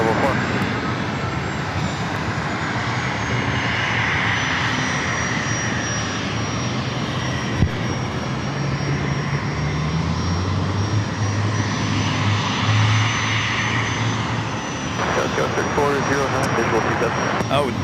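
An Alaska Airlines Boeing 737 MAX 9 at San Diego airport makes a steady, broad jet-engine roar that holds for the whole stretch, a faint high whine riding above it, heard from the ground at a moderate distance.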